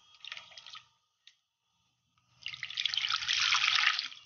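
Bitter gourds being rinsed in water for stuffed karela, with short splashing and dripping bursts, a pause, then a longer stretch of sloshing and water noise close up.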